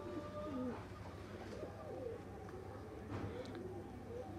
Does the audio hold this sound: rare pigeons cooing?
yes